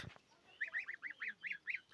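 Domestic geese carried outdoors into fresh air give a quick run of about eight nasal honks in a steady rhythm, fairly close but soft, with a brief low thump just before them.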